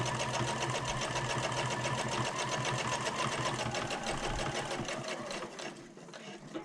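A sewing machine runs steadily, stitching forward and back-stitching while sewing a slip/zip pocket for a convertible bag, a loud continuous whir that stops near the end.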